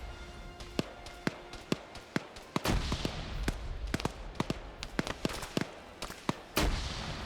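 Sharp gunshots in a US Marines versus bugs battle in a video game, sounding as scattered single cracks and short bursts at an irregular pace over a steady rumbling background, fairly close and loud.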